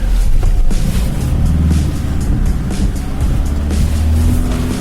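An off-road vehicle in low-range off-road mode grinds along at steady close engine drone, with rumbling tyres and body noise throughout and no speech.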